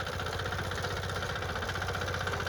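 A Sharp Garuda power weeder engine runs steadily and loudly nearby, with a continuous low, throbbing mechanical drone and rapid even pulsing vibration, and no voices.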